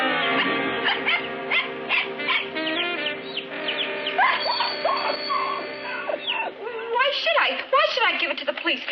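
A dog in a vintage Three Stooges comedy barks and whimpers in short, repeated bursts, fairly close, mixed with people talking over it.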